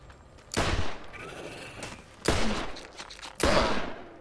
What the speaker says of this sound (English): Let's just throw a grenade, see how that works.